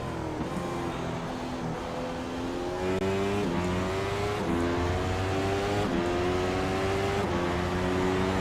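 A McLaren MP4-30 Formula One car laps Hockenheim in the iRacing sim, its engine screaming loud and close through repeated upshifts, each gear climbing in pitch before the next change, with no talk.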